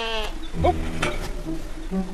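Sheep bleat in snow, a wavering cry near the start followed by further bleats and a low murmur of other livestock, moderately close with a soft crunchy background.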